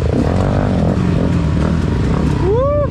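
Trail motorcycle with a new exhaust revving hard during a trail ride at a meia trilha event in Iomerê, SC: a loud, continuous engine drone throughout, rising into a sharp rev at the end.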